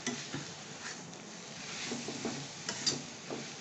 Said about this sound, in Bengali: এটা যখন আমি আমের সাথে আর পেঁয়াজের সাথে কষাবো আমার একটু ভালো করে কষাতে হবে।